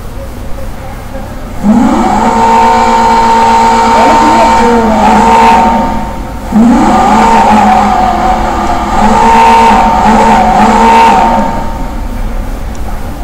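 A tuned Jester sports car in the video game GTA V revs its engine hard, played through a television. Two long, loud bursts of rising and falling engine tone are broken by a brief dip, with steady game background underneath.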